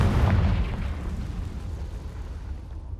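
Confringo blasting spell explosion in Hogwarts Legacy inside a cave, a loud booming burst that fades into a deep rumbling roar over about three seconds, with no speech.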